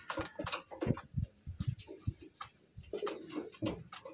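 A clean blue bar pigeon with crystal eyes coos in a string of low, throaty bursts, close and fairly quiet, with soft shuffling between the calls.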